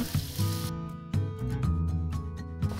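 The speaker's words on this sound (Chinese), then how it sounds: "锅里下黄油，先把洋葱下去炒" Diced white onion sautéing in melted butter in a pan gives a brief broadband sizzle, which quickly gives way to a steady soft frying hiss under background music.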